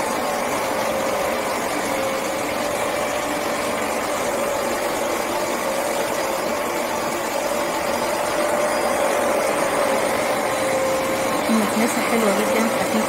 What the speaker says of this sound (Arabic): بنصح اللي حابب يجيب مكنسة غسيل السجاد هوفر بلاتينيوم